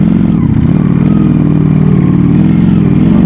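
Ducati Panigale V4 motorcycle engine running while being ridden, a loud, steady low growl that holds continuously with slight fluctuations throughout.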